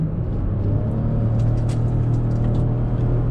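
A 2020 Lexus RX450h hybrid SUV's detuned 3.5-liter engine with CVT gearbox revs mildly, a steady, close low hum and rumble that holds fairly even throughout.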